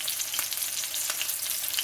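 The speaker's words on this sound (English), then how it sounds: "as long as you hear this little crackling sound, that's how you know you're browning your meat" Chicken browning in hot oil in a pan with morel mushrooms, giving a steady close sizzle dotted with sharp little crackles and pops throughout.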